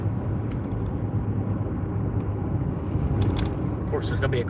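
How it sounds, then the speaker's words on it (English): A car drives by on a curving road, heard as a steady low rumble of engine and tyre noise that swells slightly toward the end, continuous and moderately close. "Of course, there's going to be a car right here on this curve."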